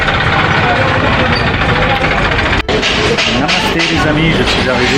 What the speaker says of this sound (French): Tracteur qui me poursuit.